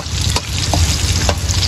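Ricado spices for ginataang pagi sizzle steadily and loudly in hot oil, a constant close frying hiss with a few brief clinks of stirring.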